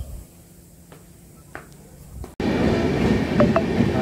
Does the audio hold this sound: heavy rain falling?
no